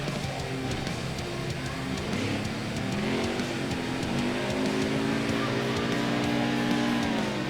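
Race truck engine idling and creeping at low throttle in NASCAR Heat 4 at Bristol, a steady loud drone with gently rising harmonic pitch and no speech.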